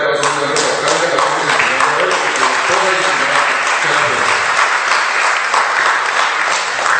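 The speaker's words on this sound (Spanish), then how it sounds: "quisiera pedirle de nuevo un fuerte aplauso a nuestro alcalde" Loud, dense applause from an audience for a mayor at a spiritual seminar, with steady close clapping that fills the whole stretch and keeps an even level.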